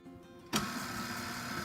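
A stand mixer switches on at low speed to combine flour, salt, baking soda and cold cubed butter for Irish soda bread, a sudden start followed by a steady, even motor whir.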